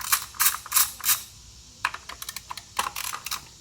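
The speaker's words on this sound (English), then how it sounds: "So first we've got a 10mm socket here. We're going to take these coil pack bolts off," A 10mm socket on a ratchet loosens engine coil pack bolts, giving bursts of quick, crisp clicking close up: several rapid clicking runs, a pause, then shorter scattered clicks and another brisk burst.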